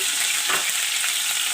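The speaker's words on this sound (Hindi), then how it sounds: "कीमे को हमें अच्छी तरीके से भूनना है।" Keema minced meat frying hard in a pan with garlic gives a short burst of loud, even sizzling hiss, close up and steady, with a brief stir in the middle.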